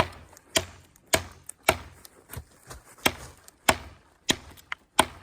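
A Bowie knife chops into very hard wood, each blow landing as a sharp, close, woody crack in an uneven series of about ten strikes with short pauses between them.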